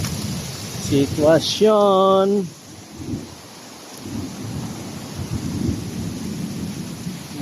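Rain and thunder in a storm, with low rumbling and broadband rain noise running through the clip, a brief voice and a sustained tone near the start.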